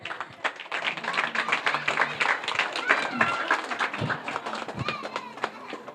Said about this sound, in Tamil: நல்ல கைத்தட்டல் கொடுங்க மக்களே